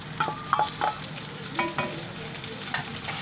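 Roughly chopped onions frying in a pan for a malai kofta masala: a soft continuous sizzle with a few scraping stirs and spoon taps near the start and middle, close but fairly quiet, no voices.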